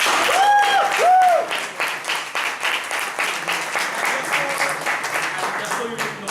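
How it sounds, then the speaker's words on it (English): Audience applause at a speaking event, a dense wash of clapping that starts at full strength and carries steadily for several seconds, with a voice briefly audible over it near the start. "please give him a big round of applause"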